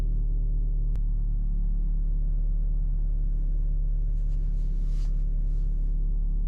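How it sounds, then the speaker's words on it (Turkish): A Ferrari F430 engine runs after a cold start, holding a steady, deep low rumble at idle with a faint airy hiss rising briefly near the end. "Şimdi aracımızı çalıştırdık. Bekleyelim cold start'ı."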